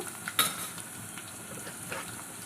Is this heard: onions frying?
yes